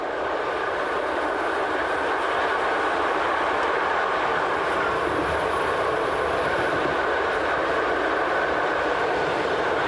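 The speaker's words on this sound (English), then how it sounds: "The locomotive hauling our train is an RE44, the main workhorses of the BLS." A BLS Re 4/4 electric locomotive hauls a passenger train along a steep mountainside above the Rhone Valley in Switzerland, giving a steady, continuous rolling rumble and rail hiss with no talking.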